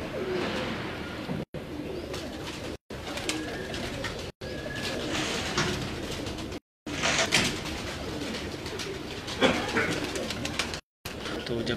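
Breeder pigeons coo repeatedly in a loft, soft throaty calls rising and falling close by, with occasional chirps and faint background noise in short broken segments.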